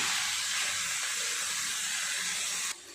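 Sliced banana flower frying with onions in a pan gives off a steady, loud, close sizzling hiss that continues unbroken, then drops off abruptly just before the end.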